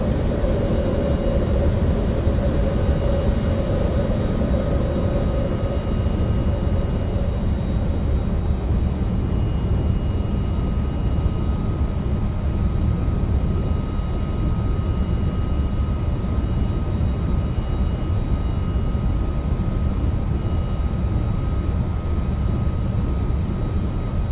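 An MD-11 airliner in the X-Plane 11 flight simulator taking off and climbing, with a steady, loud engine roar that holds unbroken throughout.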